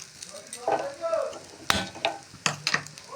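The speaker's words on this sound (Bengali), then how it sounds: "হালকা আঁচে করতে হবে আস্তে আস্তে করে নাড়িয়ে নিতে হবে সেই জন্য নাড়তে থাকবো" Food frying in a pan over low heat is stirred, with soft sizzling broken by several sharp scrapes and clicks of the utensil against the pan, close and moderately loud.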